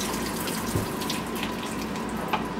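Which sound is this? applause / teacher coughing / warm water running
warm water running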